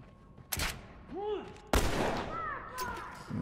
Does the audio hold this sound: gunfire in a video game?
yes